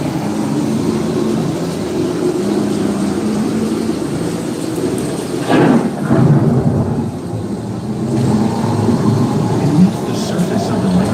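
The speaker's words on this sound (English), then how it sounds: "Approaching storm." An approaching thunderstorm brings a steady wash of rain and wind noise, broken by a loud rolling thunderclap midway, with low rumble lingering beneath.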